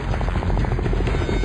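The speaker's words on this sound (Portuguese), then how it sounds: "um corajoso resgate de helicóptero tem início" Rescue helicopter flying near an erupting volcano on Montserrat, a steady loud rotor chop with rhythmic blade thumps and a constant engine whine, close and unbroken.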